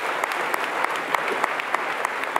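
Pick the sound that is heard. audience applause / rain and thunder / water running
audience applause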